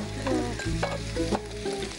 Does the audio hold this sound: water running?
no